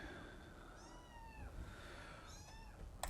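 A house cat in a room meows twice with rising, drawn-out cries, close and fairly clear over faint background game noise.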